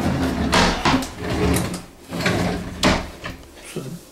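Bathroom vanity drawers slide open and shut several times in a house under renovation, giving close wooden thumps and scrapes with brief speech between them.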